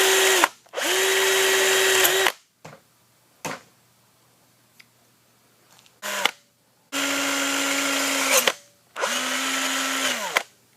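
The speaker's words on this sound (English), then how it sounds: "clean it out with a drill with that same 3/16 bit that we started all of it with" A power drill with a 3/16 bit cleaning out rivet holes in a Saiga-12 shotgun receiver, running in four close, loud whining bursts of one to two seconds each, with short quiet gaps and small clicks between.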